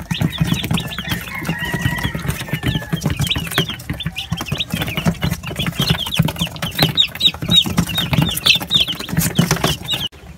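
Many chickens, about forty 45-day-old birds, cluck and chirp continuously at close range in a home-raised flock, with a busy overlapping chorus of calls and no talking.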